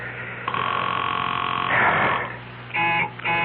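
A telephone ringing tone sounds on the line in a radio drama, a long buzzing ring followed by shorter ring bursts with brief gaps, clear and close.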